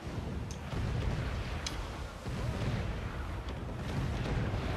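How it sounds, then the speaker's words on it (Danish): Gunfire from enemies during an island base assault in Assassin's Creed 4 game, low rumbling booms and sharp distant cracks over a dense, continuous roar of battle noise. "det er allerede begyndt at skyde efter os"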